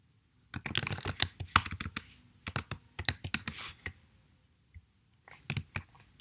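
Bursts of keystrokes on a computer keyboard while data is entered into a spreadsheet, with quick irregular clicking runs separated by short pauses, close and clear with no talking.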